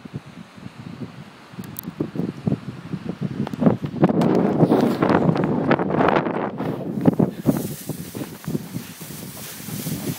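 Strong wind blowing across a microphone at the seaside during kite flying, a steady rushing buffet that swells louder midway and stays rough and close throughout, with no talk.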